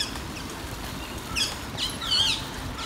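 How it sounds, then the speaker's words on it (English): Birds chirp in short, faint bursts over steady outdoor ambient noise on a fall day, with a couple of brief higher calls standing out near the middle and end. "Hear the birds?"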